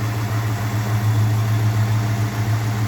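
A 1966 Ford Thunderbird engine idling with a detailed engine bay, giving a steady, loud, low rumbling hum that holds evenly throughout with no breaks or revving.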